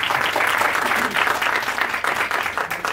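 Audience applause at a Sham e Sukhan music and poetry evening, as a singer is welcomed to the stage: steady, dense clapping from a close crowd for three seconds, with no talk over it.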